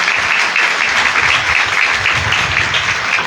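Loud, dense clapping from a church congregation during Holy Mass, offered as thanks, a steady burst of applause close by with no talking over it.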